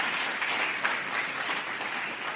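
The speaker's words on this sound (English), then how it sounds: "A round of applause, please." Audience at a South African creative-sector AI event claps for the online production team, producing a continuous, fairly faint patter of applause throughout with no voices standing out.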